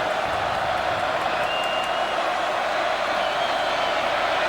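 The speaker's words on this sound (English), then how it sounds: "Crowd trying to help out their defense" A packed football stadium crowd roars steadily during a college game between Alabama and Ole Miss, a dense, continuous wash of cheering and noise pushing to help the defense, with no clear breaks or individual voices.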